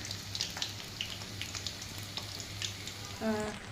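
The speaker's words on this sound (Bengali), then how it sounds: "ভাজা হইলে আমি নামিয়ে নেব। খুব সুন্দর করে ভাজা হইতে থাক।" Cauliflower pakoras bubble and sizzle in hot oil, a continuous close frying crackle with light pops, a low hum underneath and a brief clatter near the end.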